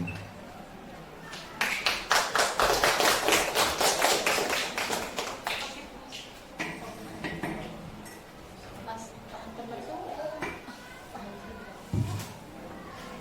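Audience applause at an Indonesian teachers' session, a dense burst of many clapping hands that swells for several seconds, then thins into scattered claps and faint room noise.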